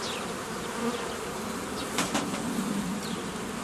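Honeybees at a vertical hive buzz steadily and close by for several seconds, a dense droning hum with a few brief sharp clicks partway through.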